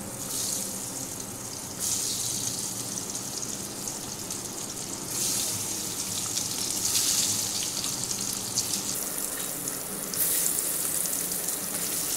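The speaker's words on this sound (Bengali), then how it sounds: "এবার আমি এখানে একটা কড়াই গরম করে সর্ষের তেল দিয়ে দিচ্ছি। তেল গরম হয়ে গেছে, এবার পটলগুলো ভেজে নেব।" Sliced pointed gourd fries in hot mustard oil in a wok, giving a steady bright sizzle that swells in waves as the pieces settle, with no talking.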